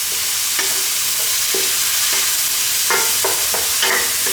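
Onions, chilies and green peppers stir-fried for salt and pepper shrimp, a loud constant sizzle broken by repeated knocks and scrapes of a spatula against the wok.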